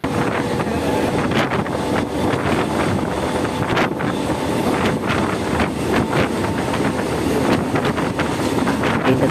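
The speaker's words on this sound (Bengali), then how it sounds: "আরেকটা ট্রেন প্রচুর স্পিডে যাচ্ছে" A train passing at high speed, heard as a continuous loud roaring rumble with wind buffeting, steady and close for the whole stretch, with no speech.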